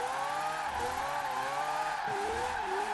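A car drifts in a driving video game, its engine droning steadily with pitch dips and rises as it slides, tire noise hissing underneath, loud and close without any talking.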